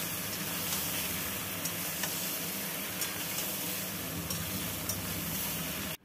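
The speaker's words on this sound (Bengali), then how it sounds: "হলুদ গুঁড়োটা দিয়েও আমগুলো একটু ভালো করে নেড়ে নেব।" Raw mango pieces being stirred with turmeric powder for a sweet-sour-spicy pickle, a steady scraping and sizzling-like rustle that runs continuously at close range before cutting off abruptly.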